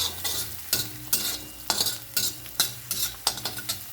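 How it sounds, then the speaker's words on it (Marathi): Onion frying in hot oil after cumin in an iron pan for brinjal bharta, a loud steady sizzle broken by repeated rhythmic scraping strokes of a spatula against the metal. "जिरी लाल झाली म्हणून लगेच कांदा टाकून घेतला"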